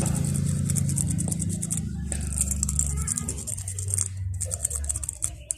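Rough, rhythmic scratching of sandpaper rubbed on rusted metal of a Honda XRM 125 motorcycle in quick strokes, close up, while someone talks over it.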